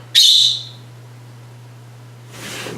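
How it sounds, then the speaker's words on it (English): Pet birds kept indoors chirp in the background. One loud, shrill chirp bursts out near the start, then a fainter rustle of bird sound follows near the end over a steady low electrical hum. "those are my birds in the background"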